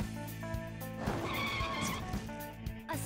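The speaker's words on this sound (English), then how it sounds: "That bus pulling up is kind of creepy" A bus in the video game Persona 5 pulls up, with a low engine rumble and a squealing brake hiss through the middle, over sustained tonal game music.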